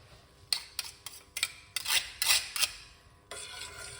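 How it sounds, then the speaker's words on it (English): Fresh ginger rasped against a grater for moringa tea, a run of short, uneven scraping strokes up close, followed by a steadier continuous rub at the end. "So you just want to grate up some ginger."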